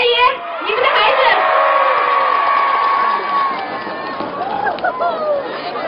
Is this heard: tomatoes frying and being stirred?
no